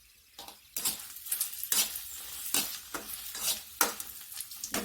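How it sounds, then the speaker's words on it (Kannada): Chilies, ginger, garlic, tomato and onion frying together in a single pan while being stirred, with steady sizzling and repeated scraping strokes of a utensil clinking against the metal, close and fairly loud, no voices. "ಇವಾಗ ಒಟ್ಟು ಪದಾರ್ಥವನ್ನು ಒಂದೇ ಬಾಣಲೆಯಲ್ಲಿ ಹುರ್ಕೊಳ್ತಾ ಇದ್ದೀನಿ."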